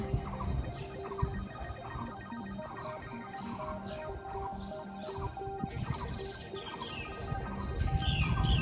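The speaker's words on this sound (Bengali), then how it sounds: "কুবো পাখি ডাকছে" A coucal calls from a tree on a hot village morning, its deep repeated hooting notes sounding at a moderate distance among other chirping birds and a steady background hum, with no talk.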